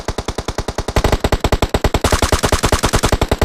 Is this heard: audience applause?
no